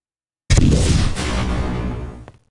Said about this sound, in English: Apparently those explosions are really loud.